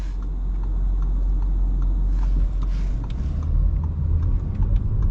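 Audi A8 luxury sedan accelerating in dynamic mode, a steady low engine and road rumble that swells slightly midway, heard from inside the cabin without talk.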